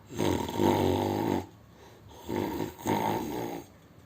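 A voice imitates a crocodile snoring with long, rasping inhaled snores, three in a row with short pauses between, close and fairly loud.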